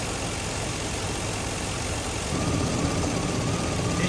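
Car engine with a suspected failing fuel pump idles roughly and steadily up close, a continuous low rumble that thickens and grows slightly louder partway through, with no talk.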